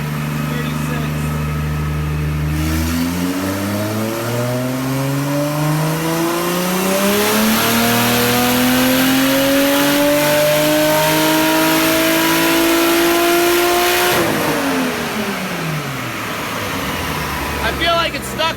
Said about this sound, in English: We're spinning on the dyno.